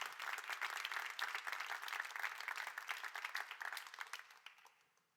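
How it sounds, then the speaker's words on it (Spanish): A church congregation applauds together for about five seconds, a dense, steady patter of many hands that gradually thins and fades out at the end. "Vamos, dale un aplauso al Señor"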